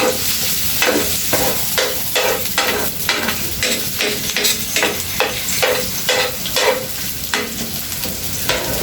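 Ginger sizzles loudly in a hot pan for tinola while a utensil stirs it in a quick repeated rhythm of scraping strokes, roughly two per second, over a constant frying hiss with no talking.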